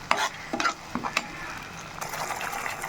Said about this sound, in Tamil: தக்காளி கூடவே 2 பச்சை மிளகா கீரைனா போல் சேர்த்துக்கிறேன். நல்லா வதங்கி வரட்டும்.